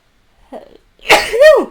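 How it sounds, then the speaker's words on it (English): A small intake breath, then one loud, sharp sneeze close up, with nothing else around it. "I need to sneeze, sorry."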